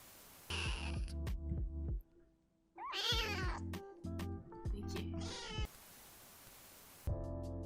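A house cat meows several times around an office, drawn-out tonal calls in short bursts with brief pauses between them, close and fairly clear over a faint background hiss.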